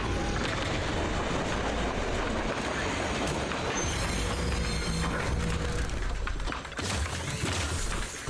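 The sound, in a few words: trains moving in Zenless Zone Zero video game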